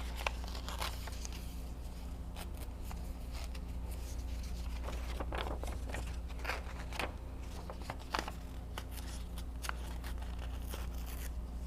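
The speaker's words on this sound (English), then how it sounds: "And then let's just rip this one" Paper is ripped by hand for a butterfly collage in an art journal, giving a series of dry, crackly tearing bursts at close range, spread irregularly over a quiet background with no talking.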